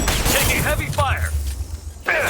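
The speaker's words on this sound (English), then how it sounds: "Taking heavy fire!" Heavy gunfire in the video game Mass Effect 2, short bursts of combat noise packed tightly together, with a voice talking over the fighting throughout.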